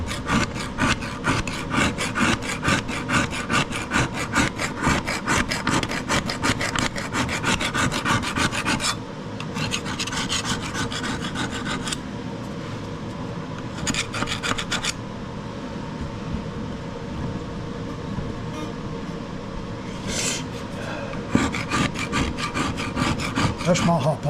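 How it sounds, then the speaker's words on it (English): Rust scraped off a Troy-Bilt 21-inch push mower, a steady run of rapid, loud rasping strokes with brief pauses and a few sharper scrapes, close up with no talk. "Scrape what we can off of it"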